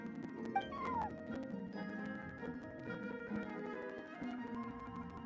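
Sir Pouncelot, a feisty cat in Genshin Impact, gives a short meow early on, then the rest is a steady, busy game soundtrack with sustained tones playing underneath.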